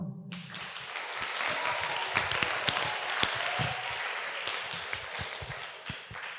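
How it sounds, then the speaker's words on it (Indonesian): An audience at an Islamic students' discussion forum bursts into sustained applause, a dense wash of many hands clapping steadily for several seconds with a few sharper individual claps standing out. "Tepuk tangannya dong."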